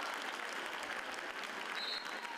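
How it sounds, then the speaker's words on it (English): Home crowd applauding at Manchester United's Women's Super League match against Bristol City: a steady, warm round of stadium applause, spread out and somewhat distant, lasting the whole moment. "Mallard's efforts appreciated by the home crowd with a warm round of applause"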